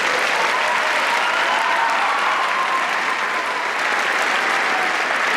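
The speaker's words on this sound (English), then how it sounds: "Give yourselves a round of applause." Sustained applause from a concert audience at a community unity festival concert featuring school choirs, a dense, steady wash of clapping that stays loud and even throughout with no gaps.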